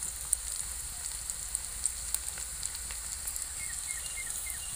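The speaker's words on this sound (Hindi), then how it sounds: "इसके हम पहले अच्छे तरह से धीमी आंच में भूज लेते हैं।" Chopped garlic and ginger frying over a low flame in a pan, a soft continuous sizzle with small crackling pops throughout.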